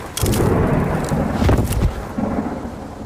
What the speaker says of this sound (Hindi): बाहर देखो कितनी तेज तूफान आई हुई है।